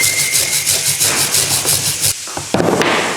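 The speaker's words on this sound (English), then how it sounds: "I'm just going to take a brush and clean that out" A brush scrubs the brake caliper bracket on a 2003-2007 Honda Accord during a brake and rotor job, giving fast, steady close-up rubbing strokes for about two seconds, then a brief pause and a rougher burst of scraping.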